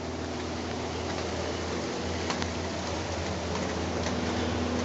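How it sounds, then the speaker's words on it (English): Steady rain patters down around a chicken coop under construction, a dense, even hiss of drops with no voices. "you can hear it starting to rain again"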